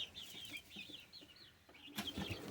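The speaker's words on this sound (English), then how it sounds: "So we got some hens over there in their food bowls." Backyard hens clucking around their food bowls on a homestead, soft repeated chirpy clucks at moderate distance, with a brief rustle or flap near the end.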